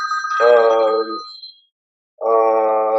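Cell phone ringing indoors, loud repeating electronic ring tones in two bursts separated by a brief silence.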